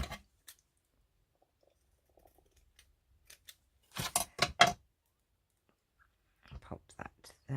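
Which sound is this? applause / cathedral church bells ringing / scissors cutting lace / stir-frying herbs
scissors cutting lace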